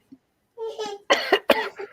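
A few close coughs in quick succession, sharp and throaty, preceded by a short throat sound.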